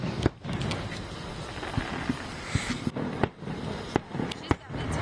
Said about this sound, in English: There's fireworks over